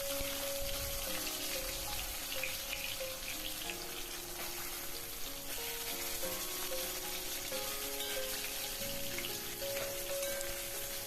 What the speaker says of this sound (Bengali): মাছগুলো লাল করে ভাজা হয়ে গেছে